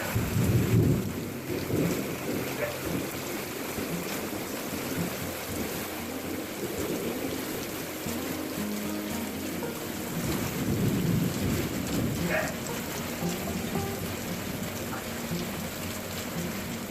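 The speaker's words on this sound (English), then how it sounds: "but it never did stop raining" Steady heavy rain pours throughout with low rumbles of thunder rolling underneath, loudest near the start and again around the middle.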